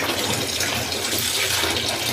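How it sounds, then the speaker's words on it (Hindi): Tap water pours steadily into a kitchen bowl of okra, a dense, continuous rushing splash that stays loud and even from start to finish, with no talking. "तो इस तरह से मैंने बाउल में भिंडियाँ डालनी है और पानी को इससे भर लूँगी एक दफ़ा।"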